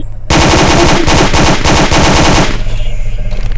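Automatic gunfire in the Roblox video game rattles out as several loud, rapid bursts in quick succession, then stops and leaves a low hum behind.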